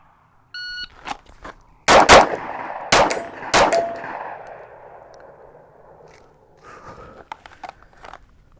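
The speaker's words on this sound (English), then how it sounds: "enough talking, more shooting" Glock 19 and Glock 26 pistols firing at an outdoor shooting range: three loud, sharp gunshots spaced about a second apart, each with a ringing tail, followed by faint clinks and handling noises.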